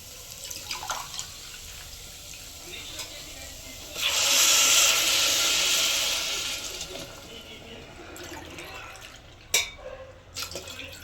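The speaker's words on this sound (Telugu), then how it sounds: "ఇప్పుడు మనం వాటర్ పోసుకున్నాము రైస్ అండ్ దాల్కి తగ్గట్టు." Water is poured into a pot of fried masala with rice and toor dal for pulao, a loud gushing splash lasting about two seconds that fades out, followed by quieter clinks and handling.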